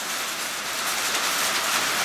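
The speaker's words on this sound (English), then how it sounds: "but it's been raining" Steady rain falls on a surface outdoors on a wet day, a continuous dense hiss that stays even and fairly close throughout with no voices.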